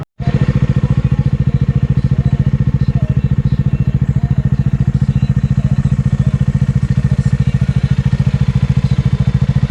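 A Bajaj Dominar 400 single-cylinder motorcycle engine idles close by, a loud, steady thumping pulse with an even rhythm that runs unbroken for the whole stretch, with no talking.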